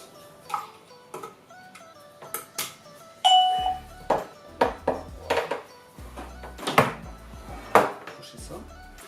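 Several bright electronic chimes from a KONX KW03 wifi video doorbell ring out between scattered clicks, taps and clatter, with one longer tone standing out near the middle.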